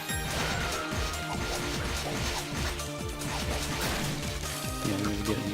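In the game Ys: The Oath in Felghana, skeleton enemies shatter with dense, repeated crunching crashes. The breaks come one after another over constant loud game music and combat noise.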